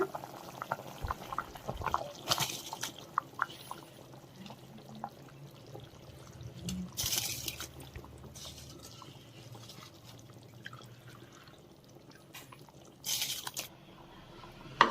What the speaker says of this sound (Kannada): ಇವಾಗ ನೀರು ಕುದಿತಾ ಇದೆ ಇವಾಗ ಇದಕ್ಕೆ ಅಕ್ಕಿ ಹಾಕೋಣ